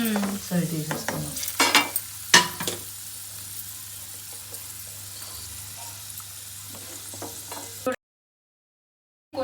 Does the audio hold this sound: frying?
yes